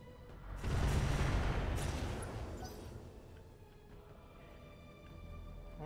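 A RogueTech barrage of Thunder missiles launching in a battle, one heavy rumbling roar that swells, then fades into a long low tail.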